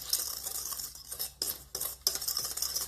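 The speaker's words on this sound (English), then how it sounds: "what I'm doing is just taking a whisk and mixing it all so it's very thoroughly mixed" A whisk beats flour and other dry ingredients in a mixing bowl for a chocolate fudge bundt cake, making close, continuous scratchy swishing with a few sharper strokes against the bowl's side.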